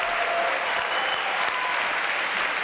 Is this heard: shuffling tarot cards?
no